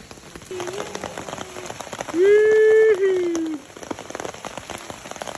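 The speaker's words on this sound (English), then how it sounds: "It is absolutely downpouring." Heavy rain pours down in a steady, dense hiss during a downpour in Japan, with a brief, tonal, voice-like sound rising over it midway.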